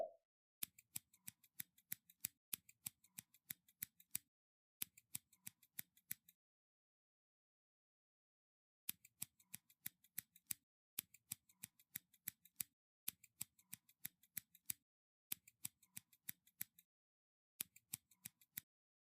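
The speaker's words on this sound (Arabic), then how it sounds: "هنفصل بقى بالمقص الجمل عن بعض كده، وهقص الزيادة اللي حوالين الجمل." Scissors snipping through vinyl sticker lettering in quick bursts of crisp, close cuts, separated by a few seconds of silence.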